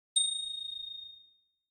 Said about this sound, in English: every 30 seconds, I'm just going to ring this little bell